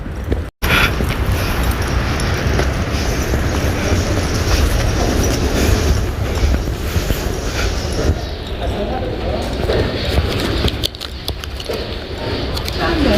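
Underground metro train in Iran, a steady loud rumble of the moving carriage with rail and wheel noise filling the whole clip, with people talking under it.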